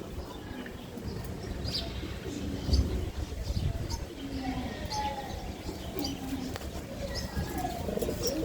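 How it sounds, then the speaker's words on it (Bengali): Male racing pigeons coo repeatedly in a group, soft throaty calls overlapping at close range, with chirps and someone talking over them. "নরগুলা দেখেন একবার সবগুলা ডাকেন"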